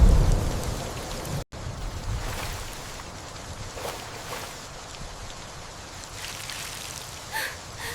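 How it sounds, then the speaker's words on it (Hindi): Continuous rainfall hisses evenly at moderate volume, broken by one brief dropout, with faint low rumbles underneath. "रात को बारिश होती है"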